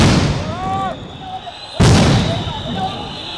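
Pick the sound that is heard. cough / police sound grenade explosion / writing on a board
police sound grenade explosion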